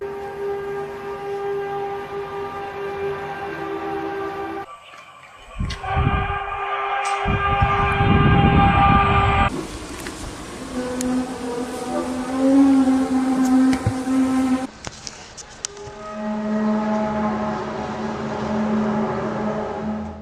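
Mysterious trumpet-like groans said to come from the sky, heard in Texas and elsewhere: long, loud, droning brassy tones with sliding pitch and rumbling low layers, shifting through several distinct segments with no speech.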